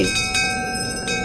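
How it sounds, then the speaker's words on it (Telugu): Temple bells ring in an abandoned goddess shrine, a sustained metallic clanging with bright overlapping tones and a few fresh strikes, loud and close throughout. "గంటలు గణ గణ గణగణమంటూ మోగుతుంటే"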